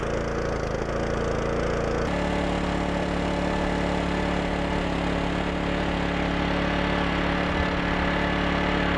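A Honda small engine powering a dry washer for gold prospecting runs steadily nearby, a loud continuous drone that shifts to a lower, smoother pitch partway through, with no talk.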